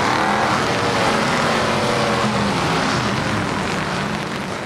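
NASCAR race cars during qualifying at Richmond Raceway, a concrete oval with big stands, producing a continuous, very loud roar of engines at full speed, steady and close, with no voices.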